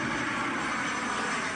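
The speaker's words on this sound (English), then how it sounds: "the occasional airplane overhead here in the flight path" An airplane passes overhead along a flight path above a quiet neighborhood street, giving a steady, broad engine roar that stays loud and even for the whole short stretch, with no voices.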